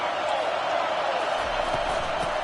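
Stadium crowd roaring steadily at a college football game between Tennessee and Alabama on a big third down, a dense, continuous wash of cheering voices from a large crowd, loud and unbroken throughout.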